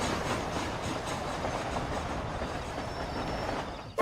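A train rolls along the rails in the Red Dead Redemption Undead Nightmare video game, a steady close rumble with faint rhythmic clatter running unbroken to a sudden sharp sound at the end.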